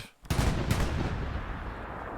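Artillery fire in the World War II game Hell Let Loose, a single heavy close boom after a brief lull, followed by a long rumbling decay.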